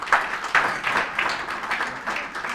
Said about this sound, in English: Shall we give him a big round of applause?